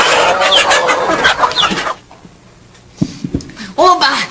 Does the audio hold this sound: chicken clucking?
yes